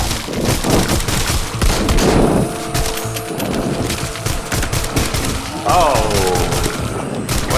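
Automatic gunfire from two guns fired at once in a first-person video game, in dense overlapping bursts with explosive thumps, and a man's brief excited exclamation over the shooting.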